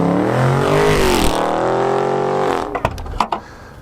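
A 2020 Dodge Charger Scat Pack Widebody with a 485-horsepower engine roars loudly and close from its exhaust, holding a steady deep drone before dropping off into a few sharp burbles and pops.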